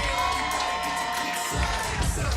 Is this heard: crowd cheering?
yes